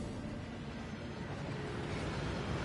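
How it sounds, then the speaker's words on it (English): A waterfall in the Hogwarts Legacy video game gives a continuous broadband rush of falling water, steady and enveloping with no pauses. "That waterfall washes away all enchantments."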